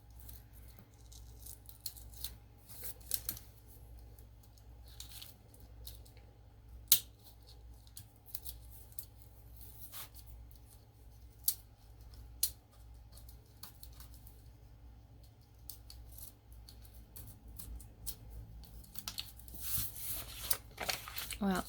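Plastic wrapping is peeled and torn off junk mail envelopes, giving quiet, scattered crinkles and sharp crackles over a low background hum that grow busier toward the end, with a voice speaking at times.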